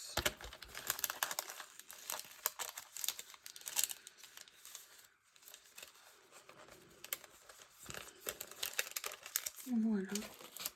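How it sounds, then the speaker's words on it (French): Adhesive stickers being peeled and torn from paper during a stationery haul, crinkling and tearing in bursts across the clip with a brief voice near the end. "Excusez-moi, je lutte contre le stickers."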